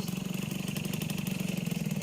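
A motorcycle engine running close by with a steady rapid pulsing putter, loud and even throughout.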